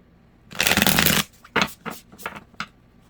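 Thick tarot cards are shuffled up close, with one long riffling burst followed by several shorter shuffles and taps, loud and without talking.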